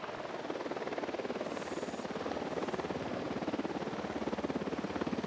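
A patrolling helicopter in the video game Ghost Recon Wildlands, with steady, rapid rotor thumping throughout that sounds moderately close and continuous, and no speech.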